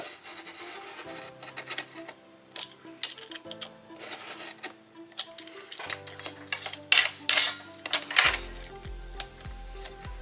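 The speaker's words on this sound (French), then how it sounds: "Je coupe." Paper is cut for a baby boy's scrapbook album, with a series of short rasping cuts and rubbing strokes, close and fairly quiet. A few sharper scrapes come toward the end.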